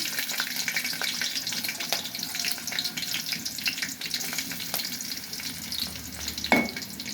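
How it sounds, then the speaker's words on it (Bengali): Onions and green chili frying in hot oil in a home kitchen, a steady close sizzle with stirring scrapes and occasional clinks, brief tap water running near the end. "তো তেল দিলাম প্রথমে, তারপর কাঁচামরিচ দিলাম, পেঁয়াজ দিচ্ছি।"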